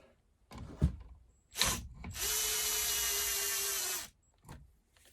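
Reassembly work on a McCulloch Super Pro SP125 chainsaw: a few close knocks and clunks, then a steady two-second whir of a power driver tightening parts, followed by more handling sounds.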